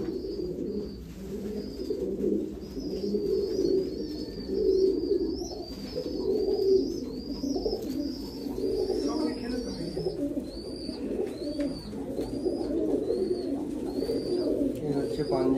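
Royal Teddy pigeons coo in soft, repeated, rolling phrases close by, joined by scattered higher chirps and twittering from other birds, all continuing over a low background hum.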